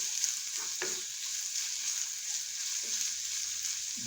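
Saltfish and vegetables tossed and frying in a pan for Jamaican ackee and saltfish, a steady bright sizzle with a few soft scraping stirs close by.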